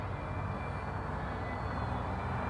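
E-Flite Habu STS RC electric ducted-fan jet on a 3-cell battery flying overhead, a steady continuous whooshing whine that holds at an even, moderately loud level throughout with no talk.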